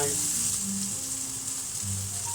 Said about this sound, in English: We've sliced some onions. In they go. They're giving it a fry.